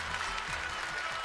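An audience at a Yue opera young performers' showcase claps to welcome a contestant onstage, a dense, steady burst of applause filling the whole short stretch.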